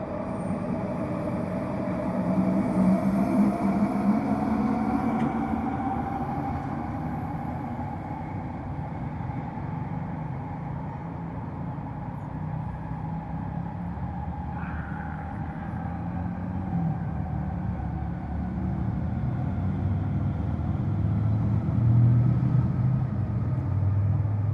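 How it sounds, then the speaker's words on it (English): A train rumbles over a bridge in a long, steady low roar that swells slightly near the end, heard from a short distance with no voices. "back to the bridge noise and the train noise"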